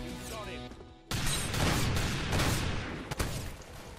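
Gunfire in the Roblox shooter Arsenal: a dense, loud burst of rapid shots starts suddenly after a quiet tonal moment and keeps rattling on, with one sharp crack standing out near the end.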